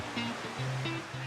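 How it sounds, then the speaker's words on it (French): Ocean waves wash onto a beach beside a seaside massage spot, making a steady soft rush of surf with faint tonal sounds drifting over it. "Le bruit des vagues derrière"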